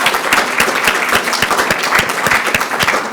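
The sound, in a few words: audience applause after a briefing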